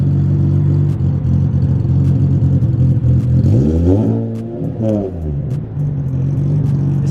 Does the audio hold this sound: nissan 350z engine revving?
yes